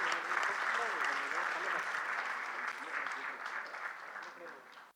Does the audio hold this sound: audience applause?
yes